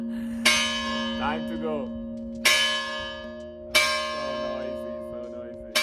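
Church bell in the village of Grañón on the Camino striking eleven o'clock: three loud, ringing strokes roughly 1.5 seconds apart, each decaying slowly, with a voice speaking briefly between them.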